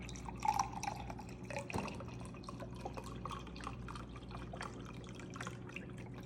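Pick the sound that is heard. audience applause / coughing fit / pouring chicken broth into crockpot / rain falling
pouring chicken broth into crockpot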